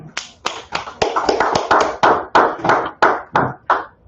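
Loud hand claps ring out in a steady rhythmic beat, about a dozen sharp claps close by with no talking.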